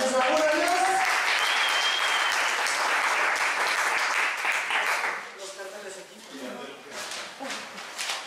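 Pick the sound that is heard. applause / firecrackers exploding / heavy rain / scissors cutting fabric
applause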